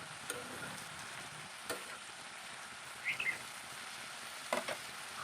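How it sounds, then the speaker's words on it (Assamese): A spatula stirs a salted taro-and-curd dish in a hot pan, the steady frying sizzle broken by a few scraping clicks as the food is turned. "আকৌ এবাৰ লৰাই ল'লোঁ।"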